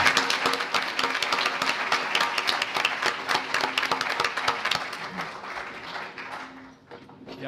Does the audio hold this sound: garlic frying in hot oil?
no